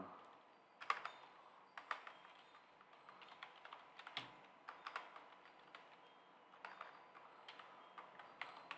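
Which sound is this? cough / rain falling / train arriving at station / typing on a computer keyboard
typing on a computer keyboard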